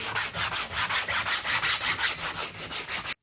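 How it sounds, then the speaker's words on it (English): Rhythmic back-and-forth sanding of a rough model car canopy on a pink Rolls Royce FAB 1 scale model, steady close scraping strokes about four per second, with no talking. "You can see it's a bit rough, so I'm going to have to sand that smooth."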